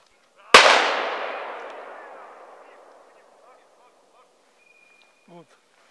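A single sharp shotgun blast at a woodcock shoot on the Black Isle cracks out fairly close, then rolls away in a long fading echo, followed by a brief faint sound near the end.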